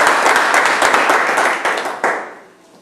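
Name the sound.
congregation applauding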